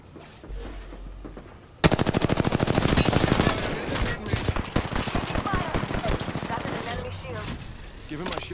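Rapid automatic gunfire in Apex Legends breaks out suddenly as a long, dense burst of sharp shots, then continues in irregular volleys. Game voice callouts can be heard over it.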